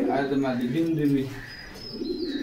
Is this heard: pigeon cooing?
yes